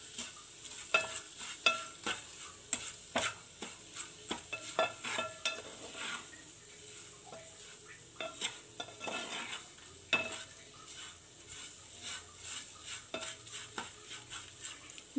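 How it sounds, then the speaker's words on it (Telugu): Garlic chili powder fries in a pan over a low flame while a spoon stirs it, giving repeated scraping clinks in an uneven rhythm over a faint, steady sizzle. "ఇది మాడనివ్వకుండా లో ఫ్లేమ్లో కలుపుతూనే ఉండాలి"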